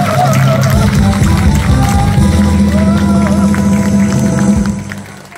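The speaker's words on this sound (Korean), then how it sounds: "자, 그럼 큰 박수 주세요." A large crowd gives sustained, dense applause at a badminton club's 32nd anniversary ceremony and chairman inauguration. The clapping stays loud and steady, then fades out near the end.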